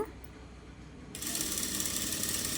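Sewing machine stitching a blouse, starting after a brief pause and running as a steady close whirring buzz to the end, with no talking.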